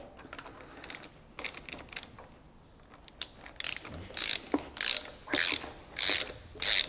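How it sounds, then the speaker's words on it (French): Ratcheting clicks as an adjustment screw on an Indexator MPB-1 pendulum brake is tightened with two hex keys, irregular at first then settling into a regular rhythm of loud, close bursts. "Maintenant nous allons procéder au serrage de la vis de réglage. Donc avec les deux clés 6 pans."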